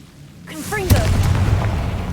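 A Confringo blasting spell bursts in the video game Hogwarts Legacy, a single sharp explosive boom cracking out after a short whooshing rise, then a dense rumbling tail under game sounds and faint speech.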